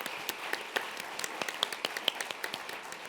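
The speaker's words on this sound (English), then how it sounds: "Give Tania a round of applause" Sparse, fairly quiet applause for Tania at a panel discussion, a small audience's claps landing as distinct, irregular taps over a few seconds.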